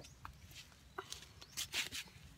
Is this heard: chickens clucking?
yes